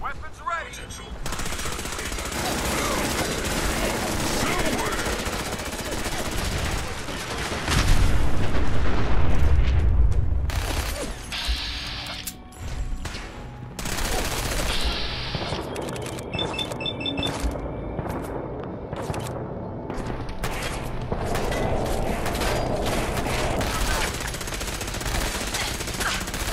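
Rapid automatic gunfire and heavy booms in the video game Fallout 4 during a fight with a deathclaw, with loud bursts and blasts running almost continuously and a voice briefly heard among the shots.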